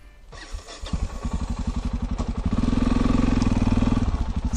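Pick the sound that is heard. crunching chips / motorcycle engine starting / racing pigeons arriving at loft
motorcycle engine starting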